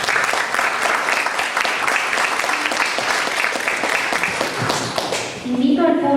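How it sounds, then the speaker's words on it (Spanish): Sustained audience applause following a doctor's lecture presentation, many hands clapping densely at steady loudness for several seconds, thinning slightly near the end as a voice begins. "para quien pido un fuerte aplauso"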